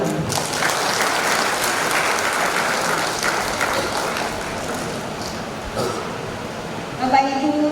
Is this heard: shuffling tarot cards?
no